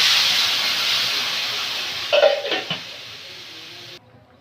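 Fish curry broth boiling in a pan, heard as a steady hiss with a few clinks of cookware, ending abruptly.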